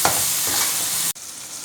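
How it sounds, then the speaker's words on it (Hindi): Tomatoes and green chillies sizzle loudly as they fry in a pan while being stirred, a continuous crackling hiss that cuts off abruptly and resumes more faintly. "टमाटरों को भी हल्का सा भुनेंगे क्योंकि बिल्कुल टमाटर भी नरम हो जाए।"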